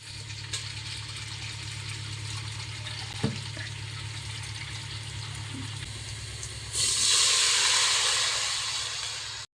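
A low steady hum runs under a faint hiss from a cooktop, then water pours in for moong dal rice pongal, a louder rushing splash near the end that cuts off abruptly.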